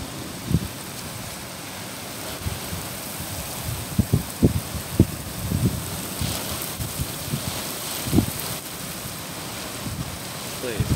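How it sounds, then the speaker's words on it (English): Gentle rain blowing in sheets during Hurricane Laura in Texas, a soft steady hiss of rain and wind with scattered close taps and thumps. "It's like the most gentle raindrops, sheets of rain coming in."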